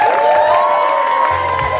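Cheering and applause from a wedding reception crowd honouring the bride's sisters, a steady, loud wash of whoops and clapping with a high sustained cheer running throughout and no pauses.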